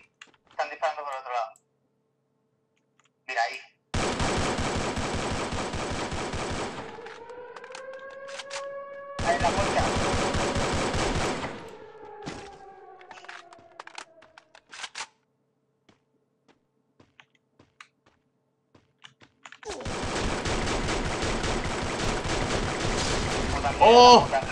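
Rapid gunfire from the Free Fire video game comes in dense bursts, loud and close, alongside excited voices talking over the action.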